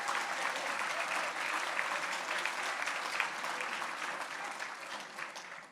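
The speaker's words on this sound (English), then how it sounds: "You can clap." A crowd applauds steadily for several seconds at a charity benefit event, dense clapping at moderate distance that slowly tapers toward the end.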